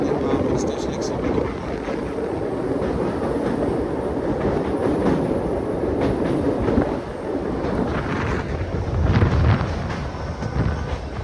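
A Madurai–Rameswaram passenger train crosses the Pamban bridge, giving a steady, close rumble of wheels with rhythmic clickety-clack and rattling carriages throughout, with voices faintly mixed in.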